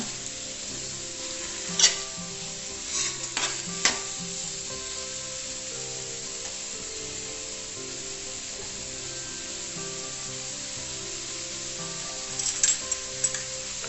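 Banana stem (vazhapindi) sautéing in a pan for pickle gives a steady, close sizzle throughout, with a few brief stirring scrapes and clicks near the start and end, and no talking.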